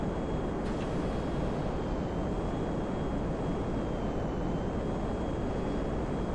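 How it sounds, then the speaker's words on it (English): Jet plane engine in the GTA V video game, a steady loud broadband roar with a faint high whine, continuous and unchanging from start to finish. "This is a jet"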